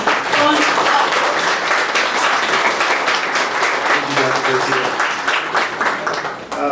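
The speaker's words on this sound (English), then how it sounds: "Let's give a chorizo round of applause to Gabriel Beltran." A room full of people applauding steadily at a breakfast event in Dallas, dense clapping that holds loud for several seconds before tapering slightly, with a few voices mixed in.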